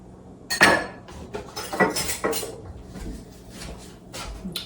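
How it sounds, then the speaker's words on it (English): A ladle and other utensils clink and clatter against a metal pot close by while someone searches for the ladle, giving a run of sharp, irregular metallic knocks and scrapes with short pauses between them. "I'm just gonna try to get a ladle"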